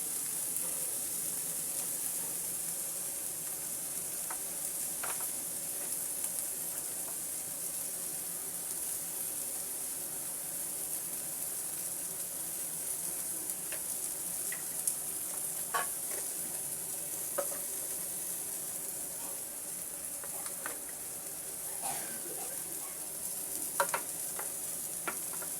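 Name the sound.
stirring frying bitter gourd and prawns with coriander powder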